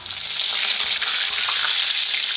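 Cumin, asafoetida and curry leaves crackling in hot oil for a brinjal bharit tempering, giving a loud, dense, continuous sizzle right up close with no talking.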